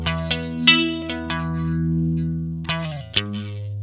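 An electric guitar played through a subtle phaser on a Line 6 Firehawk, picked notes and sustained chords ringing with a gentle sweeping swirl, clean and alone.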